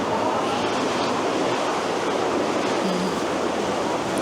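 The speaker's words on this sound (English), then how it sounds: "it has some dramatic waves today" Heavy ocean surf at Jeju's oldest volcano crashes and roars in a dense, continuous wash of noise, loud and close, with no voices.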